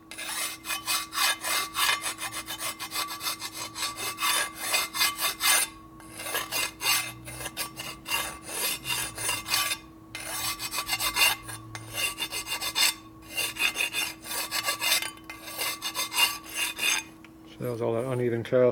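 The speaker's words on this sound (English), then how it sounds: "Files work the best for doing fin work because it keeps it straight and flat." A hand file rasps steadily across the cast fins of a 1978 Harley-Davidson Shovelhead cylinder head, with long, even back-and-forth strokes close to the listener and brief pauses between runs, under a faint steady hum.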